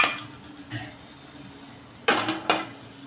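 A spoon stirs whole black pepper, green cardamom, cloves and cinnamon in a pan for paneer masala, giving soft scraping and then two sharp metallic clinks.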